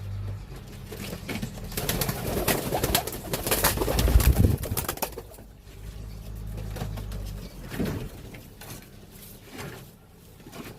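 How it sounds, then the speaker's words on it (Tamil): Pigeons coo and flap their wings close by as one is caught by hand for a cold treatment, with a loud burst of wing beats and scuffling mid-clip and softer cooing and rustling around it. "நம்ம இப்போ புறாவை பிடிப்போம்."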